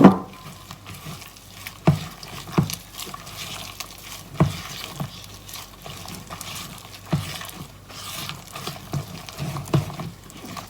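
A spoon works through Thai pumpkin cup dessert batter in a series of irregular wet scraping strokes, close and fairly quiet, with occasional sharper clacks against the bowl.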